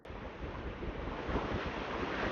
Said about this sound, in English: you can hear how crazy the ocean is